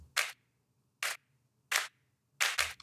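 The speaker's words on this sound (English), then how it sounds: "it's not the same clap" Four crisp, layered clap samples in a music track, struck in a sparse rhythm, the last two landing close together as a quick double hit, each sharp and dry with silence between.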